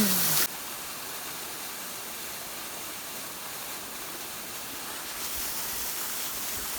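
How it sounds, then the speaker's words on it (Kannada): Therthakallu waterfall roars as a steady, dense broadband rush of falling water, constant and close throughout with no voices, after a brief louder burst at the very start. "ಹೇಗಿದೆ ಫಾಲ್ಸು"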